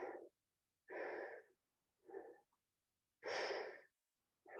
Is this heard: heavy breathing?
yes